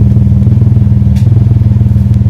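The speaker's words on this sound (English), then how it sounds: "now it's time to start the car" Alfa Romeo 147 GTA engine just started and running close by, a loud, steady rhythmic throb with regular pulsing beats and a faint metallic clatter.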